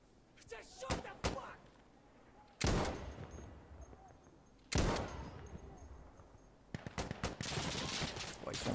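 In Insurgency Sandstorm, a Barrett .50 cal sniper rifle fires three heavy, booming shots spaced a couple of seconds apart, each with a long echoing tail. Lighter gunfire cracks come first, and rolling battle noise continues under a talking voice.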